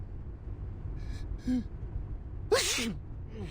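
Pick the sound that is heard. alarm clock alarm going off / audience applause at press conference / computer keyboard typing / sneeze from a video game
sneeze from a video game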